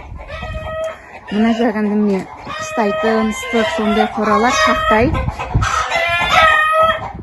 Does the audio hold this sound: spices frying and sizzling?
no